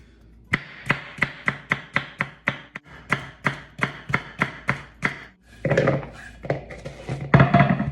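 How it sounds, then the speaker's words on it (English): Rhubarb stalks chopped with a knife on a board, a steady run of about a dozen sharp, close thunks, a brief pause, then quicker, more cluttered chops toward the end. "I'm just going to chop this"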